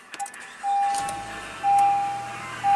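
A 2016 Honda CR-V's 2.4-liter four-cylinder engine turns over and settles into a low idle while an electronic chime beeps several times at a regular pace.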